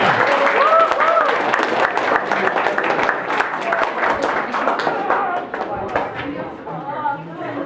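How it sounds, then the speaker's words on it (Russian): An audience at a school Teachers' Day celebration claps for the teachers: sustained loud applause from a crowd, with voices chattering throughout. "Похлопаем, похлопаем учителям."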